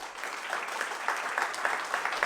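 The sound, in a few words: audience applause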